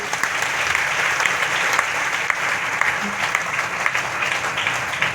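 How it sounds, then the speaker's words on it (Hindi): An indoor crowd at a morning business meeting claps loudly and continuously for several seconds, a dense, even wash of applause without pause. "आप लोग दिल से एक बार जोरदार ताली बजाइए"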